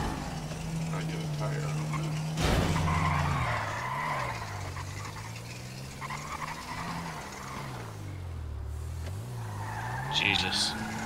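Car in a video game driving with a droning engine that rises and falls in pitch, with a sharp impact and tire squeals, while people talk over it.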